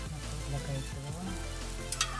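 Ginger and pepper fry in a pan with a steady low sizzle, then a short clatter of a utensil near the end.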